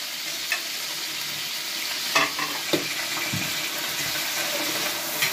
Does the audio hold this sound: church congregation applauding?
no